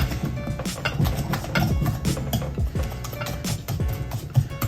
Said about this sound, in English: I'm gonna add it a little at a time and I'm gonna whisk it quickly